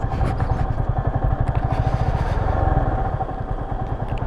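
A motorcycle rides over a rough, broken road on the way to Vathalmalai in Tamil Nadu: a close, steady engine thrum with rattling clatter and bumps throughout, and no voices.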